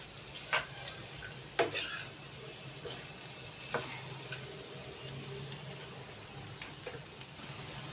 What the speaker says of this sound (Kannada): ಸಣ್ಣ ಉರಿಯಲ್ಲಿ ಸ್ವಲ್ಪ ನಿಧಾನವಾಗಿ ಬೇಯಿಸ್ಕೋಣ ಅದು ಎಣ್ಣೆಯಲ್ಲೇ ಮಾಡಬೇಕು